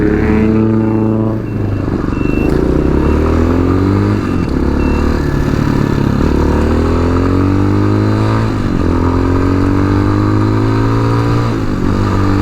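A tuned TBR7 Chinese dual sport motorcycle ridden nearby, its engine loud and continuous, revving up through repeated rising pitch sweeps as it shifts and accelerates.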